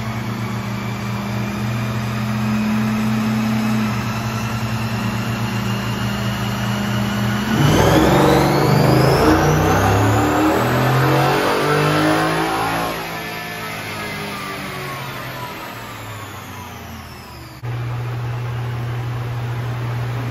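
A 2022 Ford F150 on a chassis dyno runs a fourth-gear pull: a steady loud engine drone rises into a roaring, climbing rev with a whining tone, then falls back to idle, over constant fan noise with no talk.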